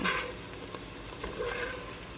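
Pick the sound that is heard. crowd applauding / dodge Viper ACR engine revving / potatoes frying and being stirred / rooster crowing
potatoes frying and being stirred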